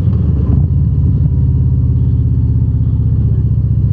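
A 2024 Harley-Davidson Road Glide with a Screamin Eagle Pro Street Tune and aftermarket exhaust rumbles close by in a deep, throbbing idle-like drone as it downshifts, with a brief louder burst early on.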